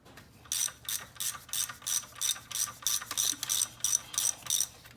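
A ratchet fitted with a T50 Torx bit loosens a bolt during a Camaro SS cold air intake install, giving about a dozen quick, evenly spaced bursts of sharp clicking, close and alone.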